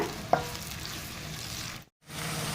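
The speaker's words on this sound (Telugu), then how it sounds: "ఇప్పుడు వీటిని ఫ్రై చేసుకోవాలి కలర్ మారే వరకు కూడా" Green chillies fry in a pan of oil for a sorrel-leaf fish curry, giving a soft, steady sizzle with one sharp click early on and a brief dropout to silence before the sizzling resumes.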